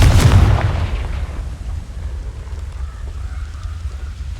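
A Confringo fire spell explodes in Hogwarts Legacy with a loud, close boom at the start that rumbles and fades over a couple of seconds into a steady low background hiss.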